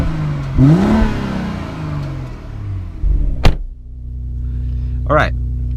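Exhaust of a 2018 BMW X3 M40i rising in short revs over a steady idle rumble, with a couple of sharp blips near the end, while someone talks over parts of it.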